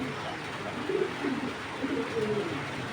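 Soft, low cooing of a male racing pigeon in short rolling phrases, repeated a few times over a steady background hiss, fairly close by.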